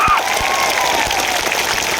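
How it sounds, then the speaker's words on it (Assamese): A large crowd claps at a public gathering addressed by Assam Chief Minister Himanta Biswa Sarma, producing sustained, fairly loud applause with a voice over it. "মই সকলোকে নিজৰ নিজৰ পিতৃ মাতৃৰ বাবে ডাঙৰ কৰি এটা হাত চাপৰি বজাবলৈ অনুৰোধ কৰিছোঁ"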